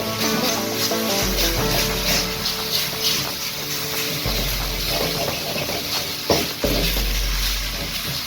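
Minced pork stir-frying in a very hot, dry pan with no oil, a steady loud hiss and sizzle running throughout, with scraping stirs and a sharp clank near the end.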